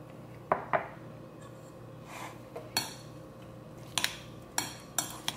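A spoon stirs a beet and carrot salad with onion and cilantro in a bowl, giving scattered, close clinks and scrapes at an uneven rhythm in a quiet room.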